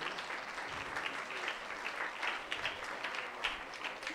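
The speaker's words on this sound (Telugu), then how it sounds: "రండి, మీరు కూడా దళమే చప్పట్లు కొట్టచ్చు." A church congregation at a thanksgiving mass claps together, a soft, continuous patter of many hands heard from some distance, with no clear voices over it.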